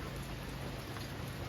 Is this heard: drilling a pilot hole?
no